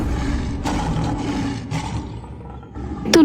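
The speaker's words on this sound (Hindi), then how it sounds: "तो वहां शेर दहाड़ रहे थे," Lions roar in a short, loud burst that swells and breaks off, closing on a higher growling snarl.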